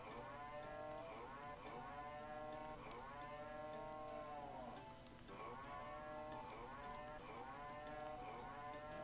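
Cattle in the Harvest Moon 3DS farming game low repeatedly, long drawn-out moos overlapping one another in a steady rhythm over a constant background hum, no talking.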